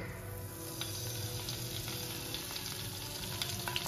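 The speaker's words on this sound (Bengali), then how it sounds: "ফোড়নে প্রথমে দিয়ে দিচ্ছি তেজপাতা" Whole spices such as bay leaf hit hot oil for mutton tehari, giving a steady close sizzle and frying hiss with a few faint pops, with no voices over it.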